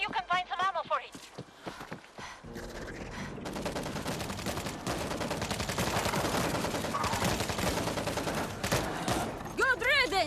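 Sustained automatic gunfire from an APC auto turret during a World War Z co-op zombie battle in Rome, a dense continuous rattle of shots for several seconds, with shouted voices before and after the burst.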